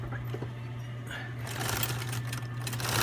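Sewing machine stitching a coat shoulder seam, a steady low motor hum that builds into a denser, louder whir toward the end.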